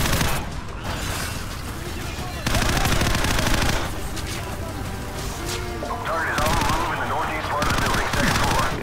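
Rapid automatic gunfire from Call of Duty 4: Modern Warfare rattles in dense sustained bursts, loud and close, with brief pauses between strings of shots and a voice talking over the game.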